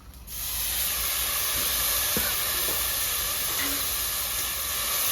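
Water poured onto ground cumin, coriander, red chilli powder and black pepper in a hot pan for a wedding-style meat curry: a sudden loud, sustained steamy hiss and sizzle that holds steady, with no talking.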